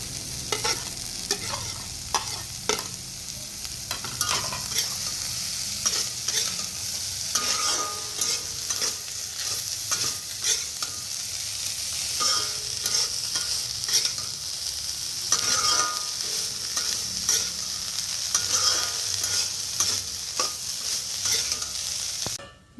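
Banana stem (kal posola) fries in a pan while being stirred, a steady sizzle with repeated scraping and clinking strokes of the spoon, close and continuous for over twenty seconds with no voices.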